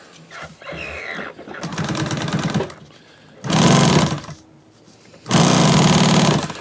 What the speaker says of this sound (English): What I do is I top stitch this one flat edge.